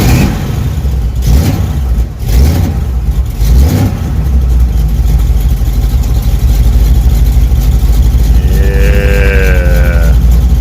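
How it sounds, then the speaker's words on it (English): A Chevy 350 small-block V8 in a Nova cranks and catches, then settles into a loud, steady rumbling run close by, with revving swells and a whining tone near the end. "let's see how she cranks over"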